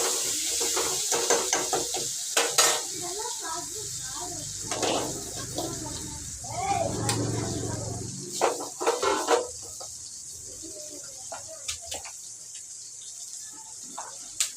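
Potato curry is stirred in a pan with tomato, giving scraping, clattering spoon strokes against the metal and a soft sizzle, close by, while people talk intermittently.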